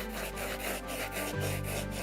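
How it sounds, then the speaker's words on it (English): Plastic is hand-sanded during restoration work to round off its edges, giving repeated rubbing strokes in a steady rhythm, close and fairly quiet, with no talking. "You can see now that just by sanding it,"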